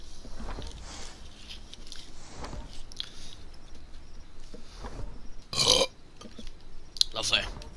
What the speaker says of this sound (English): That was like a burp and a half